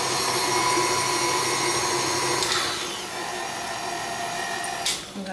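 Electric stand mixer whirring steadily while beating pineapple upside-down cake batter with sugar, a loud, close, continuous motor drone with a slight shift in pitch partway through.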